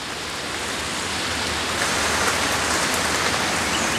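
Torrential rain falls in a Central American rainforest in a thick, unbroken roar, growing slightly louder, with no voices or other sounds standing out.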